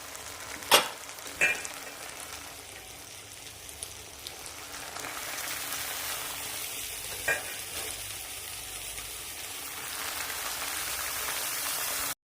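Cabbage sizzles steadily in hot oil in a wok, with a few sharp clatters of stirring early on and a broad frying hiss that swells toward the end, no voices present.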